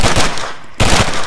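ArmA 3 gunfire: two loud, close bursts of rapid automatic shots separated by a brief pause, with no voices.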